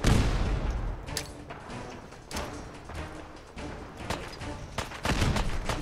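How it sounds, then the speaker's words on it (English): Grenade explosions in the video game Fallout 4: several muffled booms and bursts spread across a few seconds, moderately loud over a dull game background. "I have no idea what I'm doing aiming these grenades in this game."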